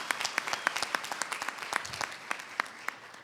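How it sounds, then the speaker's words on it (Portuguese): Scattered applause from a smallish audience at an education conference, individual claps distinct and sharp, moderately quiet and irregular, never building into a dense roar. "Por favor, uma salva de palmas para o Fábio também."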